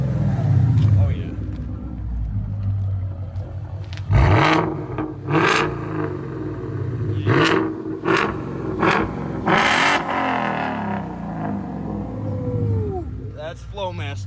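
A Ford Mustang with a Flowmaster exhaust burbles at idle and then barks through several sharp revs, loud and close, with people talking between the blips.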